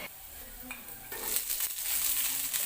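Sliced chili and onion hit hot oil with browned garlic, and the frying quickly swells into a loud, broad sizzle that keeps going close by, with faint clinks of a utensil in the pan.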